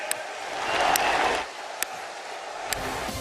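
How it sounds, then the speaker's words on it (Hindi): A standing crowd claps to welcome guests, a broad burst of applause that swells and then eases into a fainter patter with a few sharp isolated claps. "हम सब अपनी जगह पर खड़े होकर दोनों हाथ ऊपर करके ताली बजा करके हमारे मेहमानों का स्वागत करें। जोर से ताली बजाएं।"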